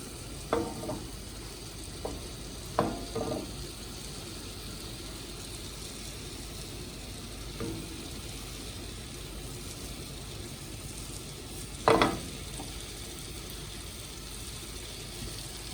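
Butter sizzles steadily around a Cajun-seasoned ribeye steak in a hot pan, a soft continuous fry broken by a few sharp clatters as the pan is lifted and moved, louder near the end.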